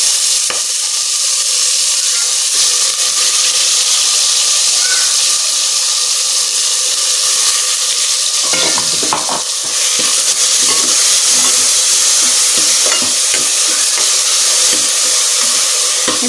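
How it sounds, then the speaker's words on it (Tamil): Ground onion paste and shallots frying in a pan for chicken gravy, a loud, continuous hissing sizzle close up, with a brief stirring disturbance partway through. "வெங்காயம் வந்து கொஞ்சம் நல்லா வதக்கிக்கலாம்."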